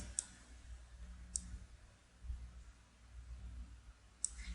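A computer mouse clicks three times, sharp isolated ticks spaced a second or more apart against a very quiet background hum.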